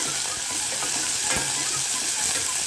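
Oil sizzles and crackles steadily as onions and green chilies sauté in a pan, close up, with a brief scrape of stirring partway through.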